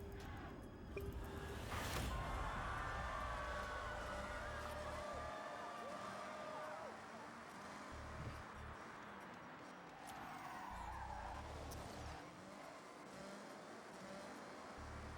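Racing cars roar continuously across dirt in a video game, engine drone and tire noise steady throughout with a sharp impact burst early on and shifting pitch as the car accelerates.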